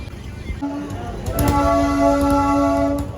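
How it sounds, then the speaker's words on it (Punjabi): A late train arrives at a closed railway crossing at Shastri Nagar, with sustained warning tones or a horn ringing out over rumbling rail noise while people talk nearby. "ਟ੍ਰੇਨ ਵੀ ਆ ਗਈ ਹੈ"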